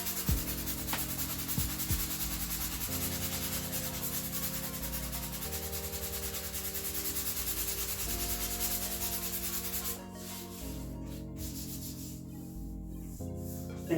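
Electric sander working over the leather of a Porsche 911 997 car seat, a continuous close rubbing drone whose pitch shifts in steps as pressure changes, softening toward the end.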